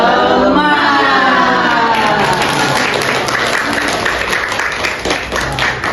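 Group of nursing participants doing a rhythmic encouragement clap chant, voices calling out in unison over quick patterned clapping, then looser scattered claps tapering off.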